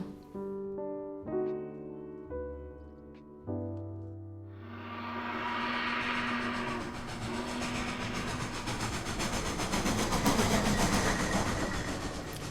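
Train running on rails, opening with several distinct whistle or horn tones before the steady clickety-clack of wheels and a rumbling carriage builds up, continuing at moderate level without speech.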